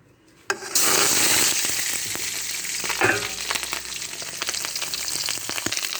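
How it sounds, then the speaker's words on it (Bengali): Fish roe seasoned with turmeric, salt and chilli powder hitting hot oil in a karahi: a sudden loud sizzle bursts in after a quiet start, then keeps crackling steadily with a few stirring scrapes. "এই যে মাছের ডিম ভাজি করব।"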